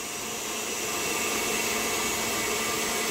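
An electric whisk beating egg white and sugar toward soft peaks for tiramisu, a steady high motor whir that holds constant and grows slightly louder, close and uninterrupted.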